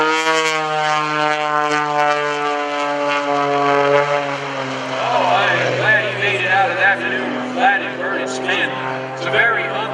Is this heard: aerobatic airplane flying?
yes